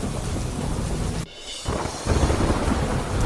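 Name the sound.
heavy rain with thunder in Junagadh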